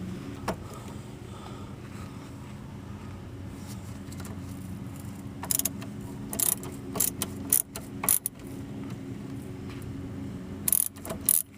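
Ratcheting wrench clicks loosening the coolant drain bolts on a Ford Focus, short bursts of sharp metallic ticks in small clusters over a steady low background hum, fairly close, with no talking.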